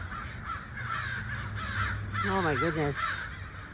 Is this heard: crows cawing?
yes